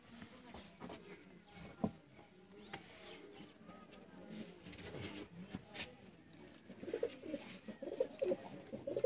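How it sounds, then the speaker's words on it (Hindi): Sialkoti Batera pigeons coo softly and repeatedly in a faint, busy background with low voices and other birds nearby. "सियालकोटी बटेरा कबूतर।"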